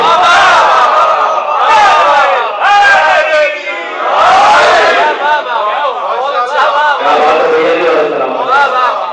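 A majlis audience roars its acclaim, with loud, massed shouting that rises and falls in repeated surges. Crowd voices overlap continuously throughout.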